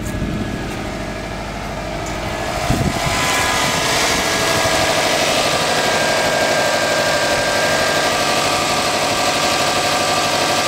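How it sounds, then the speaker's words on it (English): Sports car engine idling steadily with its HHO cell switched off, a continuous even hum with a faint whine that stays constant and fairly loud throughout, with no talk. "The engine runs just fine without the cell on."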